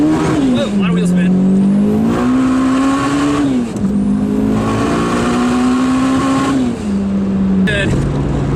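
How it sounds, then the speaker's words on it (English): A 1990s Japanese all-wheel-drive car pulls away hard in first gear, its engine note rising and falling in loud, sustained sweeps with gear changes, with a broadband hiss of tyres spinning on the surface close by. "I'm just gonna roll into it in first gear here, wait for an opening. Whoa, a lot of wheel spin."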